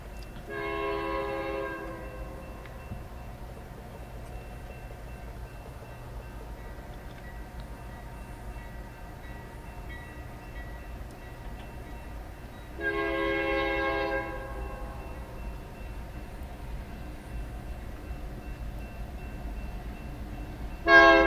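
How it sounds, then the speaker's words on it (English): A locomotive sounds its multi-tone horn as the train crosses a road: two sustained blasts heard at a distance, the second starting around midway, over a steady low rumble of the train. "pretty nice horn for this locomotive"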